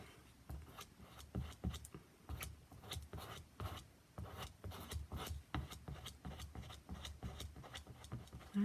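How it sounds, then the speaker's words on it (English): Repeated rasping scrapes of excess material being worked off a surface, steady rhythmic strokes close up and moderately quiet, with no talking. "we are almost done here. Almost done scraping all this excess off."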